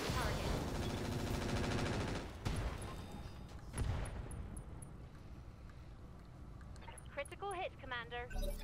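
Mech weapons firing in the RogueTech battle game: dense, loud bursts of rapid gunfire and impacts for the first few seconds, then fading as game voices talk over the tail.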